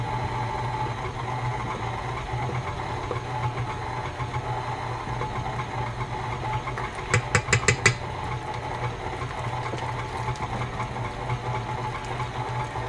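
An electric mixer whips buttercream frosting at medium-high speed with added whipping cream, a steady mid-pitched motor hum running throughout with a brief burst of rattling clicks near the middle.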